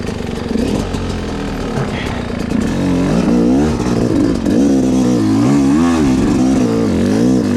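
Enduro dirt bike engine lugging hard up a steep hill in first gear, a loud, close, continuous labouring drone with wavering pitch as the throttle rises and falls, alone without talk.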